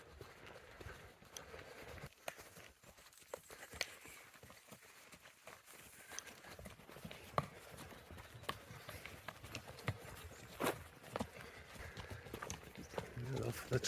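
Horses trot across a field, their hooves clip-clopping in a steady, busy rhythm at close range, mixed with rustling and movement noise while people talk intermittently.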